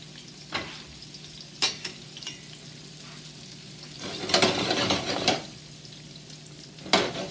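Brussels sprouts brown in a hot pan while being stirred, giving a steady close sizzle broken by occasional scraping clinks of a utensil against the pan.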